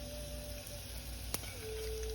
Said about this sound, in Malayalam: കരിവേപ്പില ഇടുക.